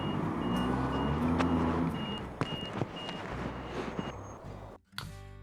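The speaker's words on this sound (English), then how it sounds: "the car's here to get towed" A tow truck arriving to haul away a van: a steady series of sharp reversing beeps sounds over the low rumble of the idling truck engine, with a few knocks and clunks near the end.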